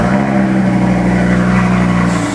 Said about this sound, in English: They're all about that 5-cylinder engine.